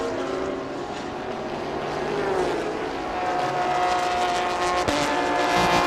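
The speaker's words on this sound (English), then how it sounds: "I just saw the Toyota buzz by GTM class lead Tanat." A Toyota Lexus race car in the Thailand Super Series buzzes past on the track, a steady high engine whine swelling slightly as it passes, heard without any talking.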